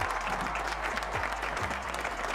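A crowd claps in a dense, steady burst of applause for a band during a live charity stream, brief and fairly loud.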